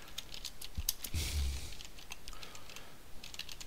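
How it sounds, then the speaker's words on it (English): Fingers tap on a computer keyboard in quick, irregular bursts of light clicks, close but quiet, with a brief louder knock partway through and no talking. "I'm just going to type"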